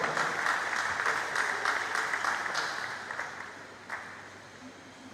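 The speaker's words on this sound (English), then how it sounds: "A round of applause for Dr. Ogboso." Roomful of attendees at a Pest Control Association of Nigeria panel session claps for a panelist called to the high table, steady and moderately loud, thinning out toward the end.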